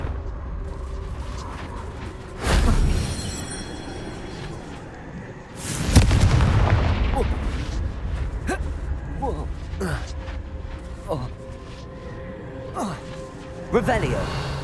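Confringo fire spells bursting in the Hogwarts Legacy video game: two loud blasts a few seconds apart, each followed by a rumbling decay, with softer magical impacts and game effects in between.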